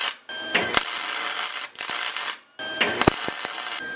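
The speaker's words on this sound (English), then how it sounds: "We're just going to weld right over the top, continue our pattern." An aluminum workpiece is welded with a MIG spool gun in short bursts: a harsh, crackling buzz switches on and off in several close runs, separated by brief pauses.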